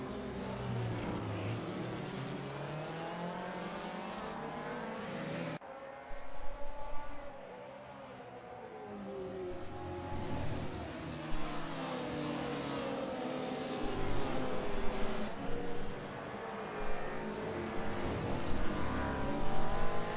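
Racing cars, including an Alfa and a Volvo, roar through a DTM league race at the Norisring in a video game, engines whining and shifting as they brake and accelerate, with a continuous dense engine drone throughout.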